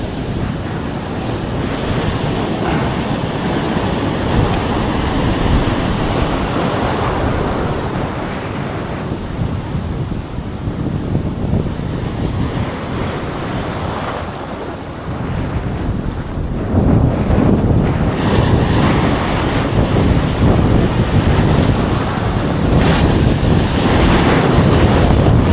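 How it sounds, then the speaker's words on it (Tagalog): Big ocean waves crash and surge onto a shore during solo shore-casting fishing, a loud continuous roar that swells and recedes, with heavy wind buffeting the microphone and no talking. "Ang lalaki ng alon."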